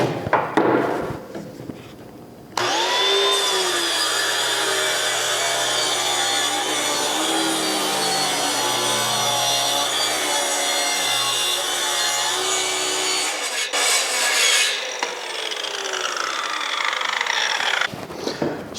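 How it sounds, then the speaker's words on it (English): Circular saw fitted with a Diablo plywood blade cutting through plywood with a loud, steady whine that runs for about eleven seconds, then winds down, with brief handling noises at the start and end. "that plywood blade gives a very clean cut with no tear out"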